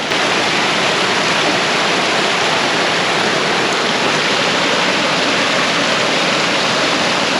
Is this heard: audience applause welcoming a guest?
no